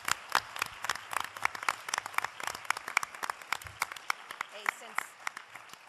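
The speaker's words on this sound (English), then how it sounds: "we need to give a round of applause for the organizing committee for this dinner" Banquet audience at a women-in-management dinner clapping for the organizing committee: many distinct, sharp hand claps in a lively scattered pattern, fairly close, with a voice briefly heard among them.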